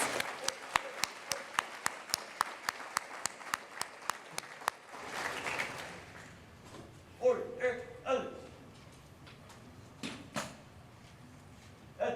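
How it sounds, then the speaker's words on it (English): A crowd at an awards ceremony claps in a steady round of applause for about five seconds, then the clapping breaks off into scattered shuffling, footsteps and a few murmured voices. "You may give them a round of applause."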